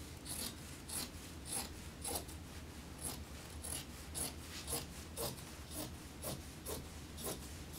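Scissors trimming the cut edge of a piece of fabric being prepared for bias strips, a steady run of crisp, close snipping strokes roughly twice a second, with no talking.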